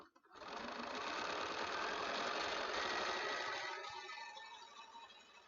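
A domestic sewing machine runs a continuous seam through quilt pieces straight off the fabric edge, a steady close whirring hum of about three seconds that winds down and fades out.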